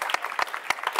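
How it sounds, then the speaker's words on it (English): Audience applause at a corporate social responsibility summit in Sydney, a brief burst of individual claps in quick irregular succession, fairly close and clear. "A big round of applause for everybody here."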